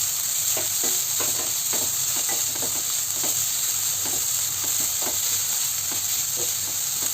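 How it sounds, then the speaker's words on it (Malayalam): Steady pan sizzle with soft scraping strokes of a spoon as grated coconut is mixed into spinach and dal thoran, repeated stirring clicks over a constant frying hiss, close and without talk. "ചിരകി വെച്ചിരിക്കുന്ന നാളികേരം നമുക്കിതിലേക്ക് ചേർത്ത് കൊടുക്കാം. ഇതുകൂടി നന്നായിട്ടൊന്ന് ഇളക്കി യോജിപ്പിച്ച് കൊടുക്കാം."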